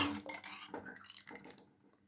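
A spoon stirring and scraping milk payasam in a pan, soft irregular metallic scrapes and clinks close by, fading to near silence before a sharp final clatter.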